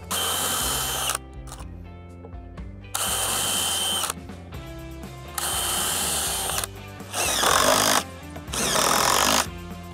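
A power drill bores through a dry cedar gate post, pre-drilling for a black carriage bolt; several loud bursts of whirring and grinding, each a second or two long, broken by short pauses.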